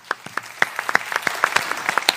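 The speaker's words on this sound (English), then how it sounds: "Round of applause for yet again another amazing radio" Scattered claps from a small audience at the close of a radio show, sparse and uneven hand claps rather than a full ovation.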